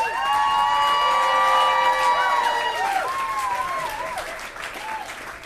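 A live show audience applauds and cheers for a musical performer. The sustained clapping fills the scene beneath a lingering tone and a voice, then slowly thins out.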